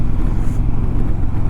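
Road traffic rumbles past a moving motorcycle in a loud, steady drone of engines and tyre noise, close and continuous with no talk.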